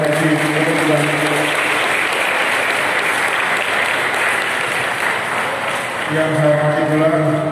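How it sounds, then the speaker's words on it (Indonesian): Steady applause from an audience at the opening ceremony of the Walikota Cup XII sports event in Denpasar, with a voice speaking over the clapping at the start and end. "Marilah kita bersama-sama memberikan aplaus kepada bapak kita dari PT MSI."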